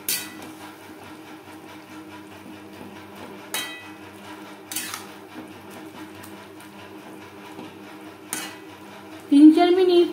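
A utensil stirs chopped banana flower with spices in a metal pan, giving sparse sharp clinks and scrapes against the pan at irregular moments over a quiet kitchen background, with a brief louder clatter at the end.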